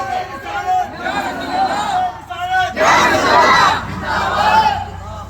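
A large crowd at a naat gathering shouts religious slogans in unison, loud and close. Voices swell into a forceful burst of chanting midway and stay dense with overlapping babble.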